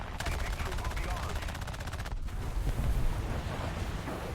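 Aircraft guns on an A6M3 fighter fire in War Thunder, a dense continuous rattle of rapid shots that runs nearly the whole time at steady, loud level, with a brief break partway through before the firing resumes.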